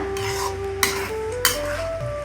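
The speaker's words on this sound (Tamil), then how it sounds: "பரட்டி விட்டுடலாம் மிக்ஸ் ஆகிடுச்சு நல்லா" Sambar rice stirred and mixed in a pot: a steady soft churning with two sharper scrapes or clinks of a spoon against the pot, close and moderately loud, with faint kitchen hum behind.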